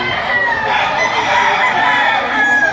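Many roosters crow and chickens cluck at once at a livestock auction market in Lipa, a loud, continuous, overlapping din of poultry filling the space.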